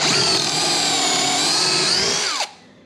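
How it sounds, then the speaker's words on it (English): A drill bores pocket holes through a Kreg jig set to 3/4 inch depth for a DIY nightstand, a loud close high-pitched whine held steadily for about two and a half seconds before spinning down abruptly. "I've also set my bit, if y'all can see it, and I'm adding my pocket holes"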